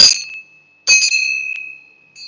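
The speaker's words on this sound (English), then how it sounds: "This temple bell, I'm going to ring like this." A small metal temple bell rung during a guided meditation gives three bright, clear strikes, each leaving a sustained shimmering ring that decays, heard alone and close.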